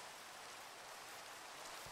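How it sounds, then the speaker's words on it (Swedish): Rain falling in Minecraft Pixelmon, a faint, even hiss of steady rainfall without breaks or other sounds. "Nu börjar det regna med"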